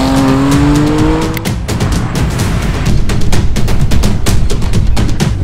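Hard acceleration from a Porsche Panamera 4S or Audi RS5 during a 0-100 km/h run: a loud, rising engine note with tire noise, then rapid sharp bursts like gear changes and exhaust crackle close by.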